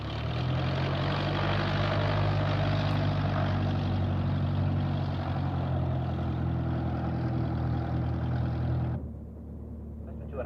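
A propeller aircraft taxiing into position on the runway: a steady, fairly loud engine drone with a low hum that drops off sharply near the end, with no talking.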